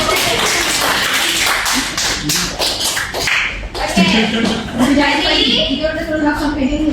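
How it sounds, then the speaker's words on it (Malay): Students in a geography classroom clap their hands, a loud patter of many claps for about three seconds, then the clapping gives way to talk and room noise. "Okey, bagi tepuk tangan tu."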